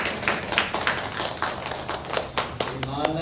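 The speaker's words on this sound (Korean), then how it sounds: "우리의 찬양을 받으신 하나님께 영광과 박수를 올려드리겠습니다." Congregation clapping during a church worship service, with distinct, uneven hand claps over a murmur of voices and a faint low hum.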